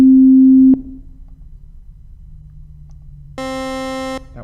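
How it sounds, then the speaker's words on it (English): Synthesized sine wave tone, a plain steady electronic pitch that sounds alone at full level, cuts off, then returns after a quiet gap as a brighter sustained tone. "And we have a sine wave."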